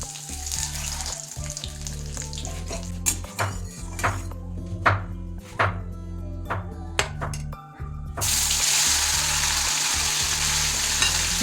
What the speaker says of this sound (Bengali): এবার তেলের মধ্যে দিয়ে দিচ্ছি একটু এলাচ, 2টো এলাচ থেঁতে নিয়েছি, 2-3টে লবঙ্গ আর একটু দারচিনি